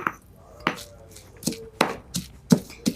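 A stone pestle pounds spices in a stone mortar, thudding in irregular heavy strikes, about eight distinct blows spaced unevenly, close and alone.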